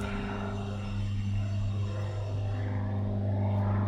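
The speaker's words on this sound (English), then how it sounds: "I'm hearing a plane" An airplane passes overhead as a low, steady engine drone, faint and distant, with a broad rumble that swells slightly toward the end.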